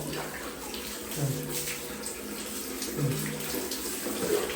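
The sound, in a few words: water running while washing off sand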